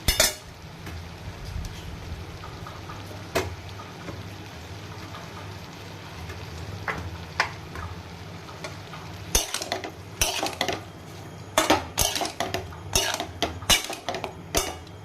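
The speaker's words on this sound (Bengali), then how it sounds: "মোচাটা একটু মজা মজা হইলে আমি এর মধ্যে দিয়ে দিতেছি চিংড়ি মাছগুলারে" A spoon stirs prefried prawns into banana flower (mocha) cooking in a pan, with a steady low sizzle throughout and scattered scraping clinks that grow busier and more frequent toward the end.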